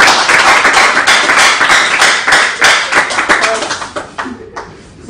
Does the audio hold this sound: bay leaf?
no